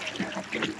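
Mountain stream water flowing at a camp in Tanay, Rizal, a steady close trickling and burbling with bright splashy texture throughout the short moment, no voices over it.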